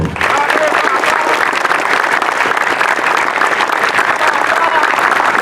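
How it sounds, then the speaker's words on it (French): Loud, dense applause from a large crowd at a vocational school graduation ceremony in Haiti, sustained and even for several seconds without pause. "je vous propose d'applaudir encore plus fort"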